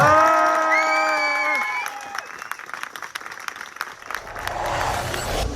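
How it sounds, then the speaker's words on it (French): Wedding guests applaud and cheer after a couple is pronounced married, with a sustained crowd of clapping and whoops; a bright sung or whistled tone rides over the start before the applause carries on alone. "On peut les applaudir."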